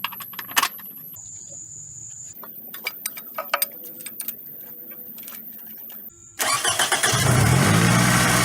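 A Toyota Camry engine starts after a power steering pump replacement: clicks and key jingles precede a quick crank, then the engine catches and settles into a steady, loud idle.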